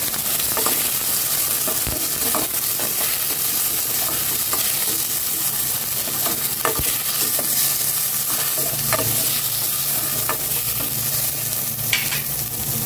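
Onion, tomato and long green chili sautéing together in a pan, giving a loud, steady sizzle broken by frequent scraping stirs throughout.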